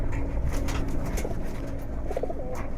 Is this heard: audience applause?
no